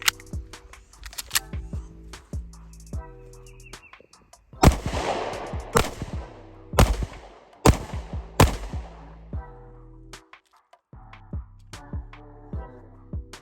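A Canik MC9 pistol fires at a shooting range: a handful of loud, sharp, close reports in uneven bursts, set against background music.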